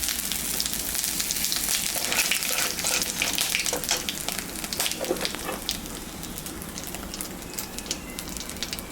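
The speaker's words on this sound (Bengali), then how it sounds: "শুকনো লঙ্কা সম্বরা দিয়ে দেব।" Cumin, bay leaf and dried chili tempering crackle and sizzle in hot oil, a steady close hiss with scattered sharp pops throughout, no talking.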